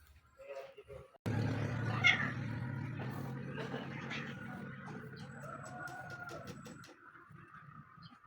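Cats meowing and yowling outdoors in a hot rural yard, a few drawn-out cries over a low rumbling background, fairly faint and distant, with brief voices in the scene.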